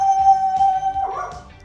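A pet dog howls and whines in a kitchen during sauce preparation, a sustained wavering tone carrying across the clip with a rougher, louder yelp near the end, fairly close.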